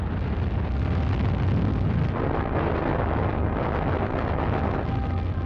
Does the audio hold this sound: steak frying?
no